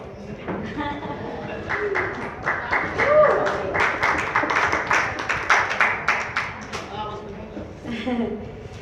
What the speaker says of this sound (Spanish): Dale un aplauso a esa